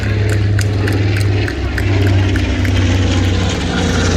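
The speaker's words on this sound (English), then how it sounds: "Another B-25 overhead, ladies and gentlemen." B-25 bomber flying overhead during an armed forces parade in Torrance, a loud steady propeller-engine drone with deep throbbing rumble filling the whole stretch, no talk.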